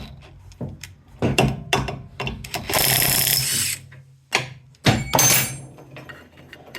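A ratchet works on a 13 mm pulley bolt on a Troy-Bilt 2840 mower, giving close, sharp clicks and metallic knocks in short bursts, with a louder rasping stretch in the middle and quiet gaps between.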